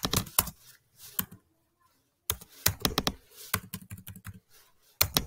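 Someone types a keyword on a computer keyboard in crisp, close bursts of quick keystrokes, with a pause of about a second before a second, longer run of typing.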